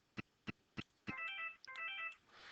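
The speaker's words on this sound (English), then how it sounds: "somebody is trying to call this phone" Four sharp, evenly spaced clicks, then a phone in a conference room rings with a bright warbling electronic tone that repeats twice, clear and fairly close.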